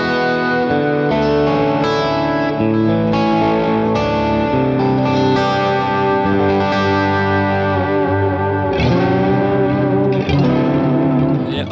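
An electric guitar plays sustained, washy chords through a BOSS Katana 50 Gen 3 amp drenched in shimmering, modulated reverb, loud and continuous.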